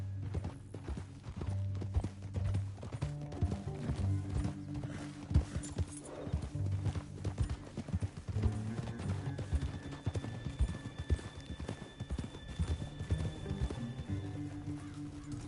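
Horses gallop in a Red Dead Redemption western game, with rapid clip-clop hoofbeats and an occasional whinny over a steady low musical score, running continuously at moderate volume.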